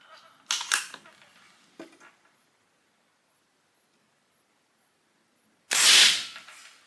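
A Pinty .22 caliber PCP air rifle fires a single loud, sharp crack near the end, preceded by a few quieter handling clicks and a stretch of silence.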